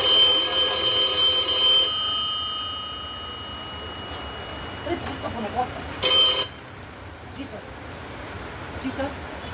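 A telephone rings with a bright electronic tone for about two seconds, then stops, followed by quiet room sounds and a few brief knocks.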